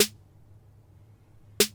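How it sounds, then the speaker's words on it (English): A second trap pop snare sample cracks twice, once at the start and again after a long gap, each hit bright and snappy with a brief tail. "I got a second snare that sounds something like this."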